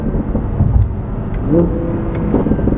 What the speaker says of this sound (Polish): A to jest właśnie stanie w korku takim samochodem.